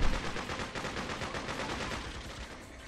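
Sustained rapid machine gun fire in the video game Freedom Fighters, a dense continuous rattle of shots running loud throughout, with no voices.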